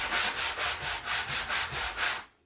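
Rhythmic back-and-forth sanding of wood with a sanding sponge, about nine even strokes close up, then stopping abruptly.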